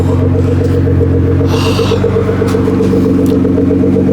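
A Nissan GTR R35 idles steadily after its first start of the year, a loud close low rumble with a pulsing exhaust note and some faint background clatter.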